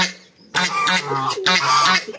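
Guinea geese honk and squawk in two loud, harsh bursts, close by, after a brief quiet start.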